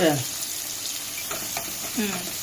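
Onions and tomato with a pinch of turmeric fry in a pan, a steady close sizzle with a few stirring scrapes and faint voices in the background.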